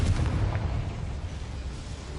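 Confringo blasting spell going off in Hogwarts Legacy, a loud booming explosion that rumbles heavily at the start and trails into a dull, sustained roar of debris and echo.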